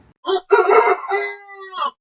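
A single loud rooster crow used as a sound effect in a horror story about a skeletal rooster: one drawn-out cock-a-doodle-doo, close and clear with no other sound.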